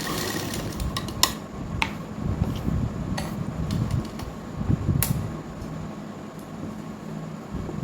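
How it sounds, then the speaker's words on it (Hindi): A sewing machine stitches a side pocket onto ladies' pants. Its steady low mechanical whir runs throughout at moderate level, broken by a few sharp clicks and ticks. "जहाँ तक हमने सिलाई लगाई है वहाँ तक इस तरीके से हम इसमें टाँका लगाएंगे"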